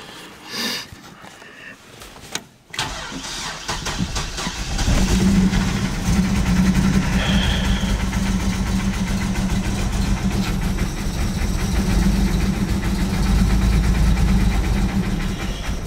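A 4.3 engine in a junk Chevy Blazer cranks and catches after a few seconds. It then settles into a loud, steady, rough running drone that struggles to hold a smooth idle.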